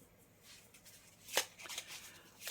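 Tarot cards handled up close, with soft rustling and shuffling, a few brief flicks and snaps, and one sharper card slap near the middle; faint talk may sit underneath.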